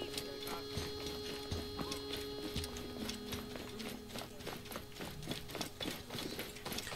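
Rhythmic clip-clop of horse hooves trotting at a steady pace in the video game Assassin's Creed Origins, fairly quiet, layered over a busy game soundscape with faint mechanical ticking.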